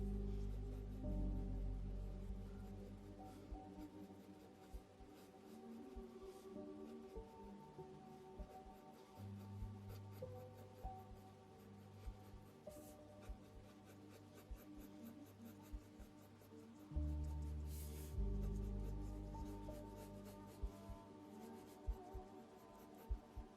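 A pencil sketches a shark drawing, making quiet, close scratching strokes in short repeated bursts over a low background hum.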